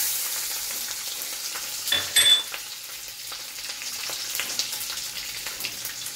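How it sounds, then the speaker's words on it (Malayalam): Garlic sizzles in hot oil while a gooseberry pickle is cooked, a steady close frying hiss with a brief louder crackling burst as pieces go in, and no voices. "വെളുത്തുള്ളി ഇതിലേക്ക് ഇട്ട്."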